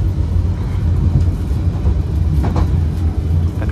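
A KA Joglosemarkerto passenger train rolls slowly over Java's oldest rails, built in 1867, a steady close rumble of wheels and carriage noise with no voices.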